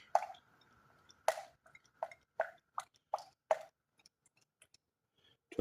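Engine oil glugs and drips into a pressure washer pump in a handful of separate plops and squishy drops, close and fairly quiet, with silence between them.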